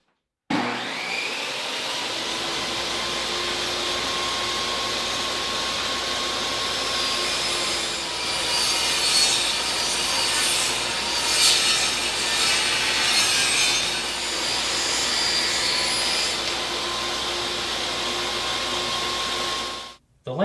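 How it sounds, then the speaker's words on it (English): A table saw rips wooden fence pickets for a picket bench, with a loud steady whine and broadband cutting hiss sustained for nearly the whole stretch, rising slightly mid-cut before the blade stops at the end. "So I've set up my table saw here with the fence 3 1/4 inches from the blade."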